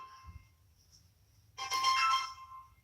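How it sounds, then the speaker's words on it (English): A phone rings in a quiet room, one bright electronic ringtone burst starting partway through after near silence with faint background hum, moderately loud and alone. "gotta have the phone ringing"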